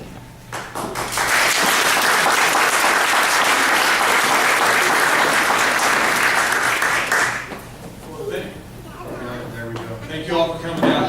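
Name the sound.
audience applause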